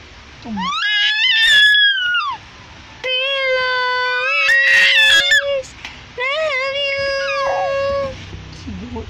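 A young child screams loudly instead of singing, letting out three long, shrill, wailing bursts close up, separated by brief pauses.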